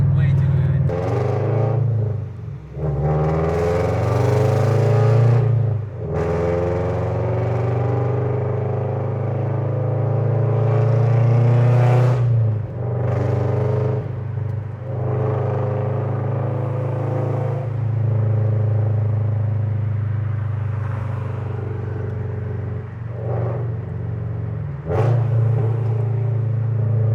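A 2013 FRS engine with a Tomei Expreme titanium exhaust rumbles loudly and close, revving up and down in long sweeping pulls with brief dips between, and occasional voices in the background.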